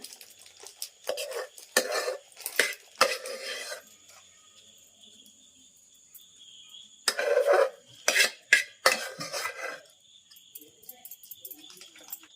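Utensils clink and scrape against a dish as cashew mango murabba is spooned out, in short bursts of clatter with quiet gaps, close by in a home kitchen.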